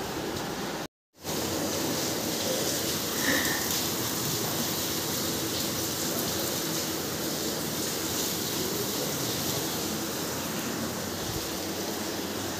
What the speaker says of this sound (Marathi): हे अजून पण पाऊस चालू आहे